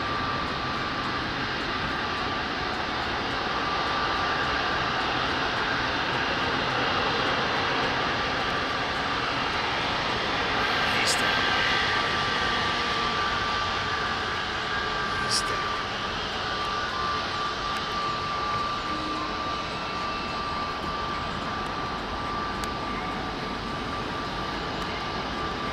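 A jet aircraft engine runs on an airfield, a steady, loud, broad roar with a sustained whine held throughout, heard alone without voices.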